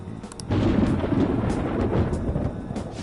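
Deep rolling thunder in the video game Persona 5 Royal, a low rumble that swells in after a brief quieter moment and keeps growling steadily, with faint crackles on top.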